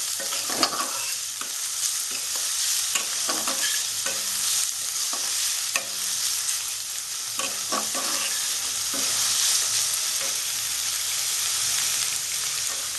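Finely chopped onion fries steadily in a hot pan for a Bengali egg-tomato fry, a continuous close sizzle broken by repeated scrapes and stirs, with no talking.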